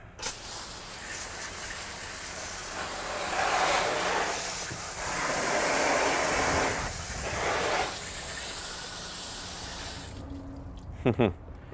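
Water spray hissing steadily as a car wheel is rinsed after applying wheel cleaner, loud and close, swelling and easing for about ten seconds before cutting off, with a few brief knocks at the end.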